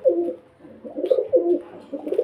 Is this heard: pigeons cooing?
yes